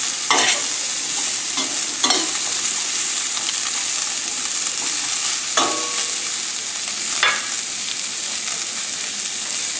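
Oil sizzles steadily in a pan for a pork shoulder stew, a loud continuous hiss with a few scraping stirs breaking through.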